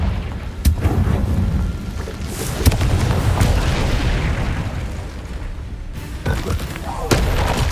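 A Confringo fire spell bursts in Hogwarts Legacy on PC as a deep, rumbling explosion, with sharp cracks and a long roaring blast that fades, followed by further impacts.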